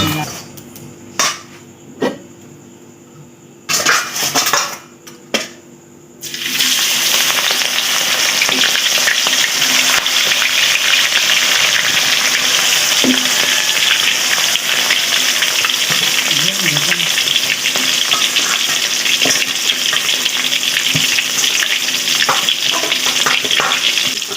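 Field crabs frying in hot oil until crispy: a few sharp clinks and knocks, then loud continuous sizzling and bubbling that fills the rest of the clip, with faint stirring underneath.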